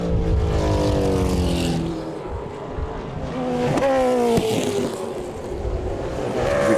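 Rebuilt Ford BF Falcon race car driving hard on a circuit, its engine loud and close with rising and falling harmonics through gear shifts, the tail sliding around on the rear tyres.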